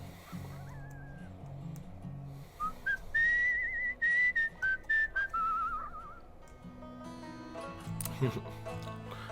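A character in the video game Where the Water Tastes Like Wine whistles a wavering little tune in short phrases over quiet background music, with a voice speaking around it.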